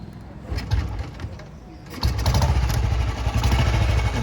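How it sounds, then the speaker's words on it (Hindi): A 2009 Royal Enfield Bullet Standard motorcycle engine runs close by, a rough thumping idle that grows louder and steadier after about two seconds, with clattering mechanical noise. "आपको बुलेट स्टार्ट करके दिखाते हैं कि इसके इंजन कंडीशन कैसी है।"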